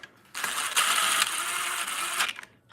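A ratchet wrench clicks rapidly and steadily for about two seconds, up close and loud, while a case bolt is tightened on an off-road vehicle.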